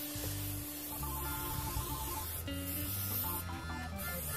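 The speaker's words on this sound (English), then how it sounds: "I'm just gonna spray it down with some Pam" A steady hiss of canola oil cooking spray plays close by, lasting a few seconds with slight pulses, and nobody talks over it.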